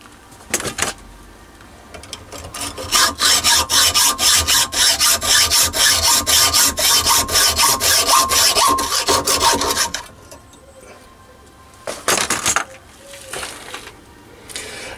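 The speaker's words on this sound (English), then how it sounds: "I'm going to take this onto the bench vise and saw this off" A hand saw cuts through a metal hexagon collet chuck block clamped in a bench vise, with about nine seconds of loud, steady, rhythmic rasping strokes, then a pause and a few scattered scrapes.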